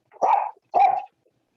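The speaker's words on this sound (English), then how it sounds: "Stop barking, Goofy." A dog named as a little one gives two loud, close barks about half a second apart, each short and gruff, followed by silence.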